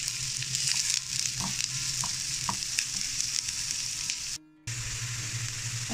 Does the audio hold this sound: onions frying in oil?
yes